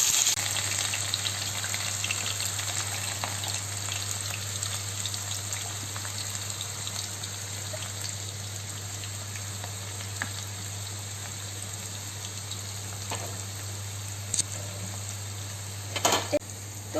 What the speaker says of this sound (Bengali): এই যে বেরেস্তাগুলো এবার আমি ভাজছি